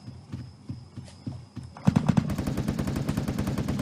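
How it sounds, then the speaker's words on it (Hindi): Gunfire rings out in a battle royale shooter. Soft footsteps thud at first, then a loud, rapid stream of automatic shots rattles on steadily until the end. "और फायरिंग की भी आवाज़ें आ रही हैं।"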